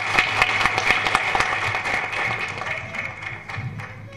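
An audience claps at a film audio launch event, a crowd of many hands in dense, uneven applause that carries on steadily and fairly loud throughout.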